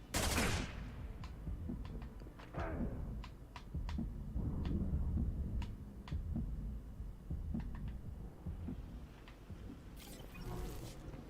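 Scattered gunfire from a Mass Effect 2 firefight: sharp shots crack at irregular intervals over a low, rumbling background, moderately distant rather than close.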